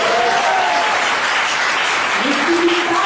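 Applause from a seminar audience in Pekanbaru fills the room, a dense, steady roar of many hands clapping at once throughout, with a faint voice briefly audible over it.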